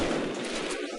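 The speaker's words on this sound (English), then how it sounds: "it's attempting to shoot me, but it's just hitting wall" Enemy gunfire striking a wall in System Shock 2, a dense continuous burst of rattling, crackling impacts lasting about a second, loud and close with no talk.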